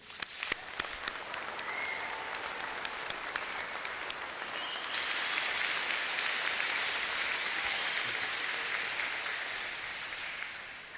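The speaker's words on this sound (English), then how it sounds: "give Brock's graduating class of 2016 a warm round of applause and great congratulations" A large convocation audience gives a university graduating class a warm round of applause. A few distinct claps come first, then the clapping swells into a full, sustained ovation that holds steady and fades slightly near the end.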